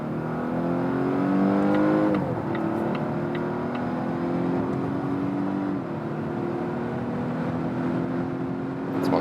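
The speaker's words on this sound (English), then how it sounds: "Now the combustion engine is also set on, and I can use maximum power both from the combustion engine and also from the electric motor." Volvo V60 hybrid accelerating hard with both combustion engine and electric motor driving, a loud, steady engine note climbing in pitch through gear changes, close and alone without talk.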